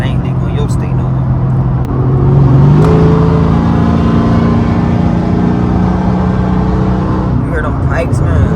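A Dodge Challenger SRT8 392 Scat Pack accelerates, its exhaust a loud, close, rumbling drone that climbs in pitch as the revs rise and then holds a steady, throaty roar.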